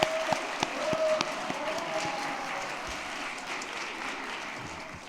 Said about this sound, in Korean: 학생 찬양 다시 한번 크게 박수로 응원 부탁드리겠습니다.